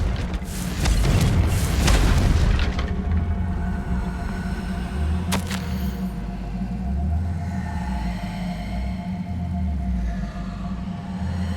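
A loud burst from the Confringo spell explosion in the video game Hogwarts Legacy erupts at the start, then fades into a low, rolling rumble that carries on alone.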